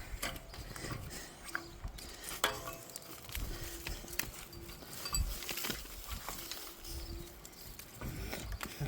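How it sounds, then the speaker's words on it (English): A jack is ratcheted to lift a conveyor off the ground, giving quiet, repeated metallic clicks and clanks in an irregular cranking rhythm, with faint background noise and no speech. "cranking up on the jack here,"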